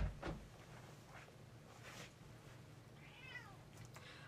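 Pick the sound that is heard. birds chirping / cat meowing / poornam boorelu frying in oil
cat meowing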